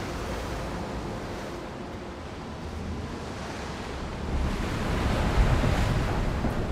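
Rough sea waves in the video game Still Wakes The Deep roll and surge continuously alongside wind, a dense roar that swells louder toward the end with no talking.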